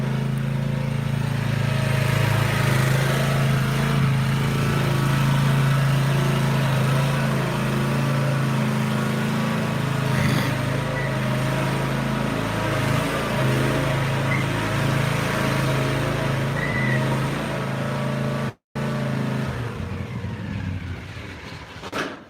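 A Cub Cadet Ultima ZT1 zero-turn mower with a 23 hp engine, running steadily at a moderate distance for a sustained stretch with a brief dropout near the end, alone without talk.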